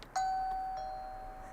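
A Wyze Video Doorbell V2 chime sounds once, a clear, close electronic ding that rings out and slowly fades over about a second, alone with no talk.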